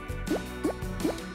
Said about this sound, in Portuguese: Encha com água. Mexa.